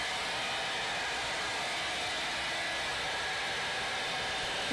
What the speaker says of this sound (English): whenever I'm blow drying the front of my hair, I always like to blow dry it in several different directions